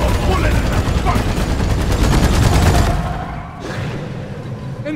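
Rapid automatic gunfire from a dwarf Gunner's weapons in the sci-fi mining shooter Deep Rock Galactic, loud and dense bursts for about three seconds, then a sudden cut and quieter clatter of combat.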